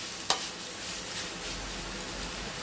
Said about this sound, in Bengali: এটা এখন ভাজা ভাজা হোক